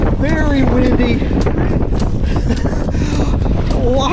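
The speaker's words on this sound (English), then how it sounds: "It is very windy." Strong wind buffets the microphone on a lake at Devils Fork State Park during a kayak fishing outing, a loud constant rumble with choppy water noise, while someone talks over it.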